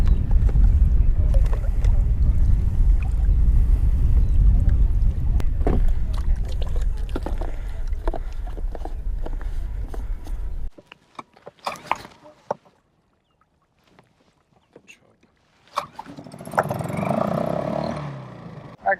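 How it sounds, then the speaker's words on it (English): A 6HP Suzuki outboard motor running on a skiff, a loud steady drone up close for about ten seconds, then cutting out to near silence with faint knocks before a rougher roar returns at the end. "Alright guys, just fired up the motor."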